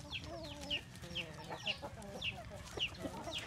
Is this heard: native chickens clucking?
yes